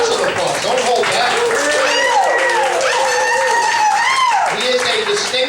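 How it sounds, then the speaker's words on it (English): Applause and cheering from an audience at a live academic event, dense clapping mixed with whoops and shouted voices, loud and sustained throughout. "I want lots of applause."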